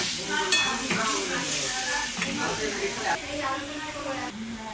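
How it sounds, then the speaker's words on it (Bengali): Shankar fish sautéing in a pan with spices, a continuous close hiss and crackle of hot oil with occasional stirring clatter, heard beneath someone speaking the whole time. "শঙ্কর মাছটা দেখে তো খুব সুন্দর গোটা গোটা কষানো হচ্ছে।"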